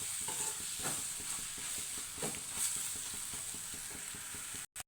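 Egg bhurji fries in a pan under a steady sizzle while a utensil stirs and scrapes in a quick, even rhythm, with no talking.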